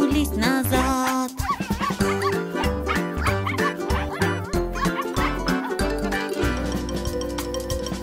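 In a cheerful Russian-language children's song, a sung dog's bark of repeated "woof" sounds rides over bright, busy backing music, with a voice imitating the barking.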